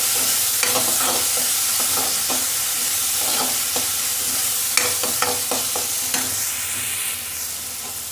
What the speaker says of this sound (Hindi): 1 चम्मच कश्मीरी लाल मिर्च, और इन सभी को अच्छे से मिक्स कर लेंगे।